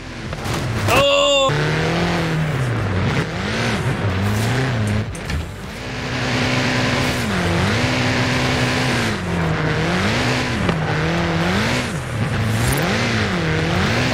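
Cars drift through a gymkhana-style freestyle session in the racing game Forza Horizon 5, engines revving and wailing up and down in repeated cycles, loud and continuous, with a person talking over them.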